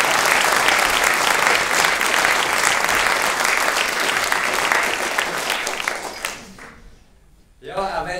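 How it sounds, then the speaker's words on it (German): Sustained, dense applause from a theater audience behind the scenes of a stage production, steady and loud for about six seconds before thinning into scattered claps, a brief lull, then a renewed burst. "Applaus."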